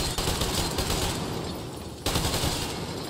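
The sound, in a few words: gunfire in a first-person shooter video game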